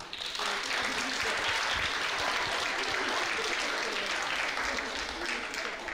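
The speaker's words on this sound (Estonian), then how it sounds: "see asendus sai nüüd küll väga tormilise aplausi ja tormilise vastukaja siit" Young audience at a forum theatre performance bursts into stormy, sustained applause, a thick wash of clapping that stays loud throughout with some voices underneath.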